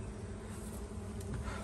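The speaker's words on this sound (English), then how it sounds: "Bottom box is even full of bees." Honey bees buzz densely inside a growing hive's bottom box, a continuous, close, low droning hum with no pauses or voices.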